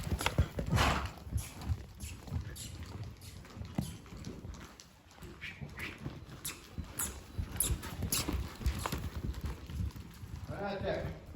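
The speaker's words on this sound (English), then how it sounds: "see if we can get a little bit of a canter" Hoofbeats of a young horse cantering in a steady rolling clip-clop, fairly close, with an occasional snort and some background noise.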